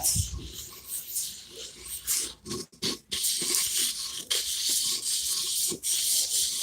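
A sanding pad grinds across a surface in a figure-eight motion during bathroom remodel staining prep, producing steady close rasping and scratching with brief pauses and changes in pressure, and no speech.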